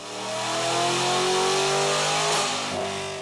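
A stock Ford Mustang GT with its factory 4.6-liter V8 revs hard on a chassis dyno, the engine note climbing steadily and holding loud and close before easing off near the end, with no talk.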